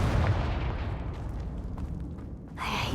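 A Confringo fire spell blasts in Hogwarts Legacy, a loud booming burst that decays into a rumbling tail, followed by a sharper crack near the end.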